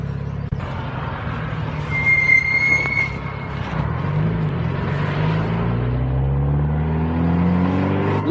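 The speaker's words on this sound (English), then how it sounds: "The exhaust sounds nice." A Mitsubishi Lancer Evo 9 exhaust drones steadily from inside the car as it drives with the windows open. A low rumble rises in pitch as the car accelerates, and a brief high whine or squeal comes through early on.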